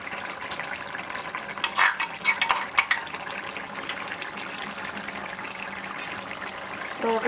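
Murrel fish curry sizzles in oil as a ladle stirs masala through it, with a cluster of sharp metallic scrapes and clinks in the middle over a steady frying hiss.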